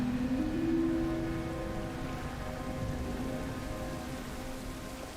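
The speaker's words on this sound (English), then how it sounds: "Oh, it is through the waterfall." A waterfall in the fishing game Dredge rushes with a steady hiss of falling water, broad and continuous, with a faint tonal hum beneath.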